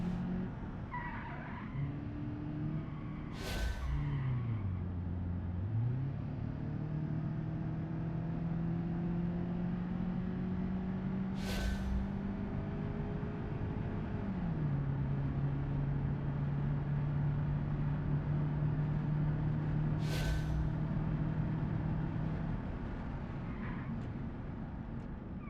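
Simulated car engine in BeamNG.drive, an automatic driven through a neighborhood, drones steadily with pitch dips and climbs as it downshifts and revs, joined by a few sharp skids or tire squeals throughout.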